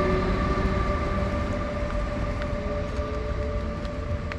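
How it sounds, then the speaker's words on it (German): Train pulling away from Hötzelsdorf-Geras station in rural Lower Austria, a fairly loud steady rumble with sustained tonal whine and faint metallic squeals, fading slightly as it leaves, with no speech. "Zug fährt gerade ab."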